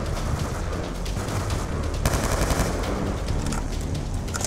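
Dense gunfire fills a firefight in the Black Ops 2 video game campaign, with rapid overlapping automatic bursts and shots at a constant loud level, with no talk.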